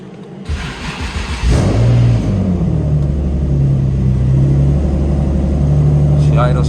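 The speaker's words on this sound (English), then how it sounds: "So let's start the car" An Infiniti G37 engine cranks briefly and catches, then settles into a steady, loud idle rumble close by, with a voice speaking over part of it.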